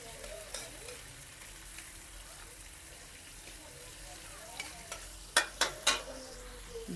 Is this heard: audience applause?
no